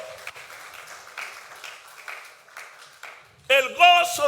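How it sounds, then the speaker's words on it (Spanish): A church congregation claps in scattered, light bursts that come and go, then a preacher's voice cuts in loudly over the last of it. "Démosle un aplauso al Señor."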